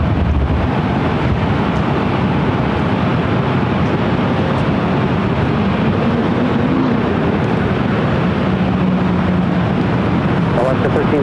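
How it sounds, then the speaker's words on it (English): An Alaska Airlines Boeing 737-900ER on its takeoff roll at LAX, bound for Seattle, gives a broad, steady jet roar that swells and rumbles, heard from a distance over wind noise. "This next takeoff is Alaska 1301. Taking off to Seattle on the"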